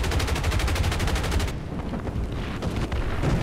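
Aircraft cannons in War Thunder fire a loud, rapid burst of rounds, then several scattered, sharper shots follow.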